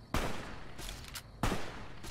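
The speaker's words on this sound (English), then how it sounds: "Start shooting." Gunfire in Fallout New Vegas during a fight at the Deathclaw quarry: two sharp, loud shots about a second and a half apart, each followed by a decaying tail and scattered smaller bangs between.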